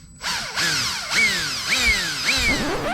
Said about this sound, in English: And now I just have to drill 4 holes into the switch box